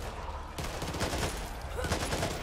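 Gunfire in the video game Back 4 Blood comes as rapid, dense bursts of shots, loud and close, with a voice shouting briefly over them.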